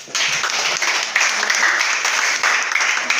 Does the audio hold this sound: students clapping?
yes